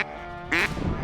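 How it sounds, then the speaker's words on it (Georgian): A duck quacks loudly in the open Samegrelo countryside, a short burst of rasping calls rising out of quiet background hiss. "კვატას ველოდებით ძმებო, კვატას"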